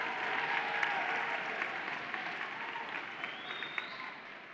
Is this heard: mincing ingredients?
no